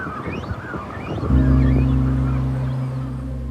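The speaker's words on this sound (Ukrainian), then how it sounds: "Але баклани з пташенятами зовсім не раді відвідувачам." Cormorant colony with chicks disturbed by approaching visitors on newly exposed former reservoir land, with bird calls and squawks at first, then a loud, steady droning honk-like tone taking over and holding to the end.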